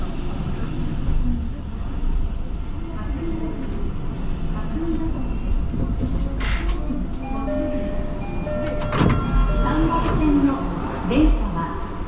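Inside a Tokyo Metro Hibiya Line train bound for Nakameguro, a steady rumbling ride noise runs throughout, with intermittent clicks, squeals and a faint announcement chime, under spoken station announcements.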